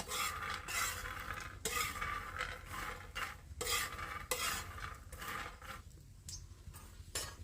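Peanuts are roasted on a griddle over a village stove, stirred with a scraping utensil in repeated sweeping strokes over a dry crackling rustle, close and steady, easing off near the end; no voices.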